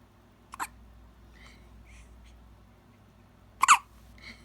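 A one-week-old baby hiccups in a quiet room, two short, sharp, close hiccups spaced about three seconds apart, with faint soft breathing sounds between them.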